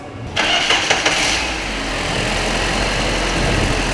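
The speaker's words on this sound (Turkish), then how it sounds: "Şimdi marş yapıp sesini dinleyeceğiz." A Fiat Albea 1.4 engine with crankshaft and camshaft position sensor faults cranks and catches around half a second in, with a few sputtering bursts before settling into a steady, loud idle.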